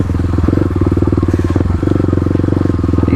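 A stage 3 Kawasaki KLX351 dirt bike on Oregon forest trails idles and putters close by, its single-cylinder engine thumping in a rapid, even pulse with a brief blip of throttle partway through.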